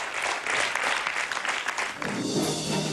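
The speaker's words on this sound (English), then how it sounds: "let's give them a huge round of applause" An audience at a school quiz competition gives the participants a big round of applause, a dense wash of clapping that eases briefly near the two-second mark before continuing.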